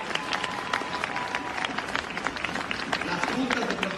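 A crowd claps steadily throughout, a dense patter of many hands filling the space at moderate loudness.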